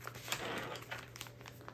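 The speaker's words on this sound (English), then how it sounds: "I'm just gonna see if I can go ahead and fold it with the paper" Scrapbook paper being folded along its fold marks by hand, a steady close crinkling and creasing rustle with a few sharper crackles, quiet and without talk.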